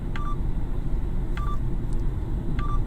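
Inside a moving car, a radar warning device gives three evenly spaced short electronic beeps over steady road and engine rumble as it nears a speed radar.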